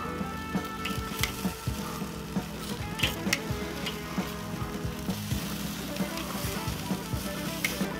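Marinated mesquite chicken wings sizzle on a Weber kettle grill outdoors, a dense crackling fry with frequent sharp ticks and scrapes from tongs as pieces are flipped, fairly close and steady throughout.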